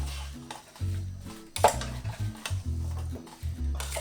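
A spoon stirs a pear and vanilla mixture in a pan on the stove, with scraping and clinking strokes repeating in a loose rhythm over a low hum.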